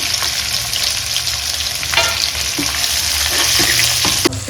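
Sliced onions for jeera rice sizzle loudly and steadily in a hot pan, with a few brief stirring scrapes and clinks of a spoon against the metal.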